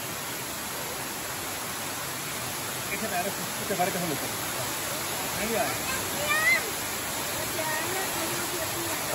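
The Cascata di Salino waterfall near Paularo, Italy, pours in a steady, broad rushing roar that fills the whole stretch, with faint voices occasionally audible beneath it.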